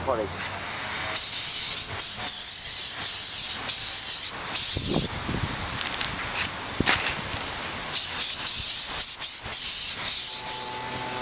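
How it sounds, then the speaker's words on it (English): Bursts of brake cleaner spray hiss repeatedly onto brake rotors of an Acura Integra in long, loud blasts with short pauses between, along with some rubbing and handling noise close by. "you're going to want to spray them with brake cleaner"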